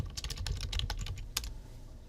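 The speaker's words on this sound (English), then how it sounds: "in the author field go ahead and type your name" Quick bursts of typing on a computer keyboard, a close run of light key clicks over about two seconds with one sharper tap near the end, no voices.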